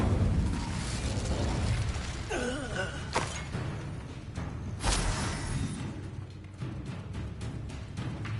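Incendio fire spell cast in Hogwarts Legacy bursts out with a whooshing, crackling blast amid ongoing magical combat effects, several sharp pops and flares spread across a few seconds.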